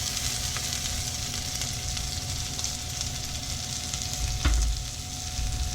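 Onion frying in a pan of olive oil and bacon fat, a steady, close sizzle running throughout with one brief louder clatter near the end; no voices.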